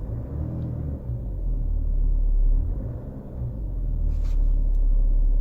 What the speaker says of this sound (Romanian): Vedeți rotațiile când accelerez acum?